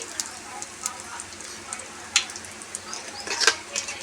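Tempering spices sizzling in hot oil for tomato chutney, a steady soft crackle with light clicks and small utensil taps, close and continuous.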